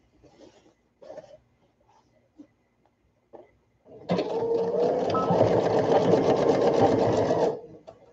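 A sewing machine stitches back and forth on a baby sunsuit, a dense, fast mechanical whirr that starts abruptly, runs for about three seconds and stops, after a few faint handling taps and rustles.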